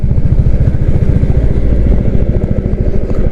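A Royal Enfield Classic 350 cruises in 4th gear at steady speed, its single-cylinder engine giving a loud, close, even thumping beat with wind rumble and no talk.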